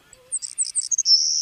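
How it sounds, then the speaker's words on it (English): A savanna sparrow gives its buzzy song, a few sharp high chips building into a long insect-like buzz, close and clear against near silence. "birds like this savanna sparrow, they tend to have a buzzing type call"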